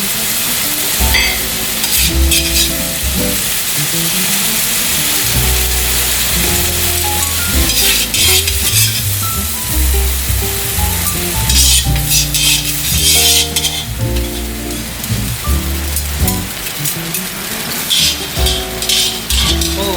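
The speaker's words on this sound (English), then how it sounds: "So just one more stir fry, and you can just put it here." Taiwanese cabbage and carrots stir-frying in a hot wok, a loud, close, continuous sizzle with bursts of clattering tossing and scraping, layered over steady background music.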